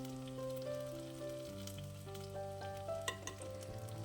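Finely chopped ginger sizzles in hot oil in a pan for a Kerala brinjal (vazhuthananga) curry, a steady close frying hiss with a few sharper crackles near the end, under a melodic background tune.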